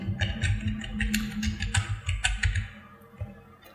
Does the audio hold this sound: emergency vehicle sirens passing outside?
no